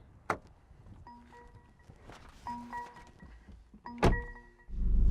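Someone climbs into a Mercedes-AMG A45 S and pulls the door shut, with a sharp thump at the start, soft rustling and electronic chimes, then a solid door-closing thud near the end followed by low cabin rumble.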